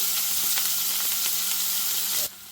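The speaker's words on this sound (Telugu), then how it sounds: "ఇప్పుడు సన్నగా తరుక్కున్న ఉల్లిపాయ ముక్కలు వేసేసుకోండి. ఇప్పుడు దీన్ని కొంచెం వేగనిద్దాం." Chopped onions frying in oil in a pan for a cauliflower masala curry, giving a steady, close sizzle with faint stirring clicks that stops abruptly near the end, with no one speaking.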